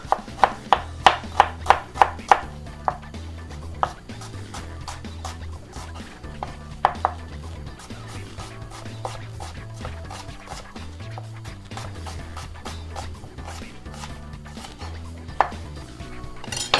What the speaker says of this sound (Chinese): 现在我们拿我们的 shallots 切一半